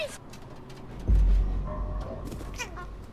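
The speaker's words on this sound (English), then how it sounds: "Is that a cat noise?" A cat meows in the video game Stray, with several plaintive meows and a drawn-out caterwaul, fairly close, over a low rumbling background and a sudden thud partway through.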